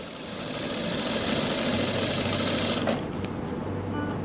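A sewing machine runs steadily while stitching a frock, a fast, even mechanical whirr close up that drops away near the end.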